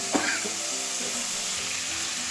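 Curry masala with capsicum sizzles in a pan during sautéing, a steady close frying hiss with a brief scrape or stir at the start.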